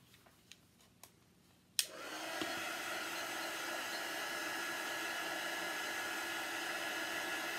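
A handheld craft heat dryer switches on with a sharp click after a few faint taps, then blows a steady, loud broadband whoosh while drying craft paste, with no talking.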